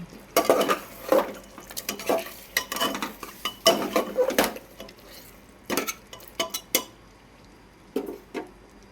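A utensil scrapes and clinks against a pan while chicken kosha is stirred with lemon slices, giving irregular bursts of clatter over a quiet background with a light sizzle beneath.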